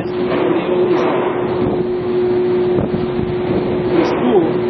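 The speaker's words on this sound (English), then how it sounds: "winds are howling at 50 knots, waves are capping, and spray is over" A strong gale at 50 knots roars steadily across a research ship's open deck at sea, with waves capping and spray flying, a dense continuous rush with gusty swells, loud and close with no speech.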